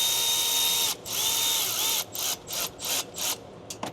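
Ratchet tightening 10 mm bolts on the intake of a 2020-on Ford 6.7 Powerstroke diesel, a loud buzzing ratchet run followed by several short clicking bursts with pauses between them.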